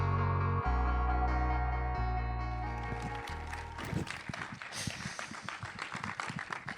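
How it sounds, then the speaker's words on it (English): A closing musical chord fades out, and a film-event audience then breaks into applause, crisp scattered claps that build over the final seconds. "You're just applauding the suit."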